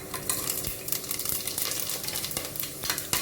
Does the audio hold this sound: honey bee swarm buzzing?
no